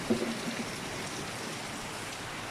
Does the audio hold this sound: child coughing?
no